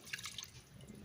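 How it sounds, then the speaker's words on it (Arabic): Water poured over chicken and chickpeas in a cooking pot gives a brief, faint trickle with a few drippy splashes, heard alone. "وكنديروا الماء الكافي، الماء اللي غادي يغطي لنا الدجاج"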